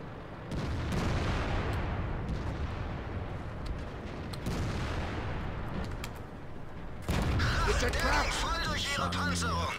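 Heavy tank cannon fire in World of Tanks around a Tier 9 German VK 45.02 B, with several deep booming shots and rolling rumble, ending in a busier burst of impact and engine noise.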